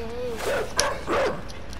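A dog in the video game Inside barks twice in quick succession, loud and close over a low rumbling background, with a voice heard just before the barks.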